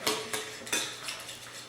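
Cucumber salad with dill being tossed and mixed in a bowl, with several sharp utensil clinks and scrapes against the dish, close and fairly quiet.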